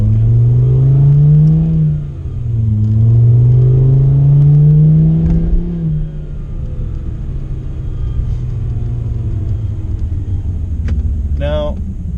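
Revving engine and exhaust of a Mk5 Jetta, rising and falling in several loud pulls over the first six seconds, then settling into a steady lower rumble with a brief sharp sound near the end.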